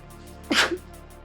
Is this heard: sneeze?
yes